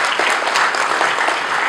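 Audience applause at a school programme launch, honouring two guests who have been asked to stand: a dense, steady wash of many hands clapping together, sustained and fairly loud throughout.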